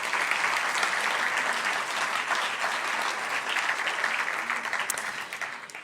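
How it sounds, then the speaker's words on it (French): Sustained applause from an audience at a town's New Year greetings ceremony in Sainte-Pazanne, a dense, even clapping that carries throughout and tapers slightly at the end. "Vous pouvez les applaudir."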